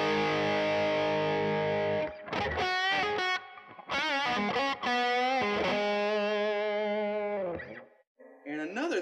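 Electric guitar through an overdrive pedal giving a driven, Marshall-like distortion tone; loud sustained chords and bending notes ring out alone, with a brief break and a short final phrase.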